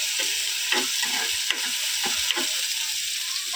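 Upma cooks in a pan, hissing steadily while a spoon scrapes and taps the pan in a few sharp strokes spread across the sizzle.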